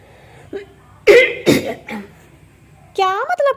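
A woman coughs a few times in a home kitchen while tea is being made, two sharp bursts close together followed by a quieter one, with a brief spoken phrase afterward.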